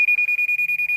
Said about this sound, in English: So you can see a solid beep, and then it has these arrows on it.